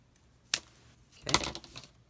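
Scissors cut through a paper file folder in two quick bursts, a short crisp snip followed by a longer rasping cut, close and quiet with no talking.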